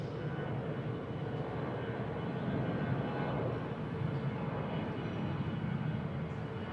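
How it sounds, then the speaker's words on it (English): An Airbus A321 jet departing on runway 19 right at Bangkok Suvarnabhumi Airport gives a steady, broad engine roar, loud and sustained throughout, heard from a spotting position with no voices over it. "Here we go, Viet Travel A321 in that special livery. Departing on runway 19 right."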